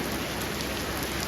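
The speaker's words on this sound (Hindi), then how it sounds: "देहात में हल्की हल्की बारिश।" Light rain falls steadily over open countryside in a continuous, fairly loud hiss with no pauses or talk.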